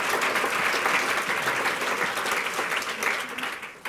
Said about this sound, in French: je propose qu'on l'applaudisse quand même pour ce prix de faculté